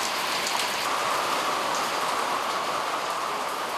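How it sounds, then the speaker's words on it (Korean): A heavy, steady downpour falls at a remote island seaweed harvesting site, a dense and even hiss of rain that holds for the whole stretch with no voices. "비 때문에 또 발이 묶였습니다."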